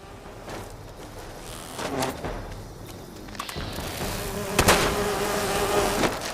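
A swarm of bees drones in a video game, a dense buzzing that keeps going while sharp impact and gunfire-like hits break in, growing louder toward the end with no one speaking.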